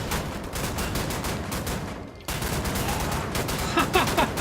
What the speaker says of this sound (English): Man, with dual shotguns, you just see it destroying them.